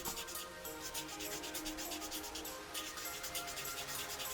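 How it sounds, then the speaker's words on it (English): Sanding on a plastic AMT 1963 Stingray model kit, a close, rhythmic scratchy rubbing made of quick repeated back-and-forth strokes that continue steadily without any talking. "this has been a lot more sanding and a lot more work than I really expected to have to do to this kit"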